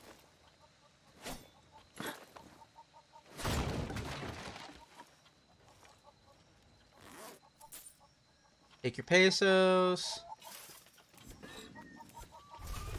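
A rooster in Far Cry 6 gives a short burst of loud clucking near the middle, amid game sound effects and someone talking.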